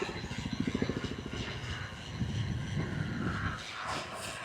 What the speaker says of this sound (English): Chinook over there.